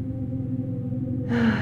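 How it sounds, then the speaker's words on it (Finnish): A deep inhalation arrives near the end, a soft close rush of breath rising over a low steady drone of calm background music. "Kolmas syvä sisähengitys."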